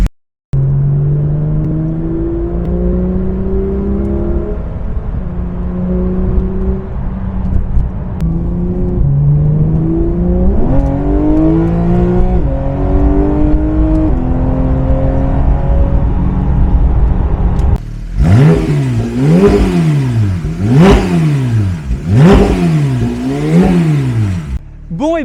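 A Porsche 911 GT3 RS (991.2) fitted with a full straight-pipe exhaust is warmed up, its engine climbing and falling through loud repeated revs, then snapping into sharp rapid blips of rising and dropping pitch, close and raw.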